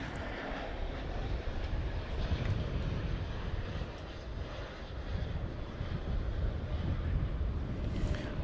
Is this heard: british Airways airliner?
yes